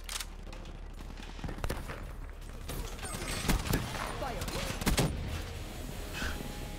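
XMC gunfire sounds in the video game Black Ops 3, with sharp shots and short bursts over a busy match background while a person talks.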